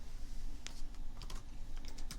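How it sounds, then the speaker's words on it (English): Keys clatter on a computer keyboard in a light, irregular run of taps over a steady low background hum, close and soft, with no voices. "I'm typing these things out."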